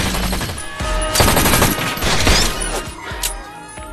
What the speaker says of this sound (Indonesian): Polisi Sanchez yang melihat hal itu langsung beradu tembak dengan Luke